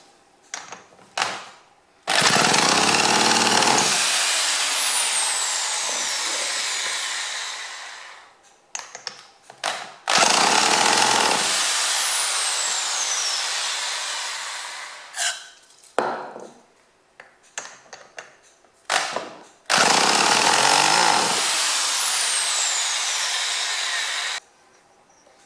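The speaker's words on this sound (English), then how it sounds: "Get the drill." A power drill whirs in three long, loud sustained runs separated by brief clicks and handling noises while a Stihl MS 170 chainsaw is being disassembled; no voices are heard.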